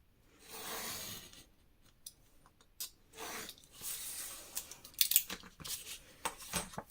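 A craft knife slices through paper along a ruler while making a small mini album, giving several short scraping strokes and light taps, close and quiet with no voices.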